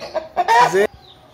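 Aseel rooster at a Multan chicken market letting out a short, loud crowing call after a couple of clucks, close by, with no talk.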